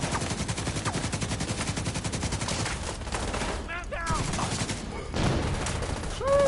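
Sustained light machine gun fire in a firefight in The Division 2, rapid dense bursts running almost the whole time, loud and close, with brief gaps and a few electronic game effect chirps near the end.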